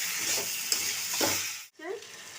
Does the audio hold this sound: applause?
no